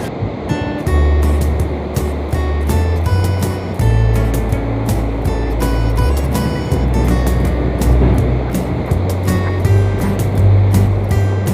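Strong sea waves surge and break continuously at a beach. The thick, loud wash repeats in rough pulses over a low, droning rumble, with no voices.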